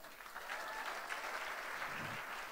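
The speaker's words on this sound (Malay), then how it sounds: "Beri tepukan pada dia." A short burst of steady clapping from a group, fairly quiet and distant, with no voices over it.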